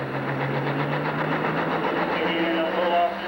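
The Black Savage pulling tractor from Illinois runs its engine at a 1997 Sandwich, Illinois tractor pull, a steady low droning rumble heard at a distance over crowd ambience and a loud announcer's voice.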